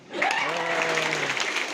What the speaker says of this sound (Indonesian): Dari tepuk tangan dulu untuk saya